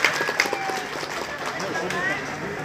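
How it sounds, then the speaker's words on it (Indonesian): Applause from an audience at an Islamic boarding school graduation ceremony, a dense wash of clapping filling the hall under a crowd murmur, loud and steady for a few seconds. "Tepuk tangan, aplaus untuk teman-teman satuan"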